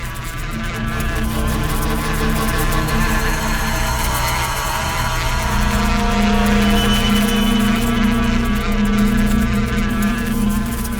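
Bees swarm around a hive in a dense, continuous buzzing drone that stays loud and close throughout, with a steady low hum beneath the whine of many wings.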